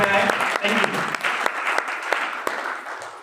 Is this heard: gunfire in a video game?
no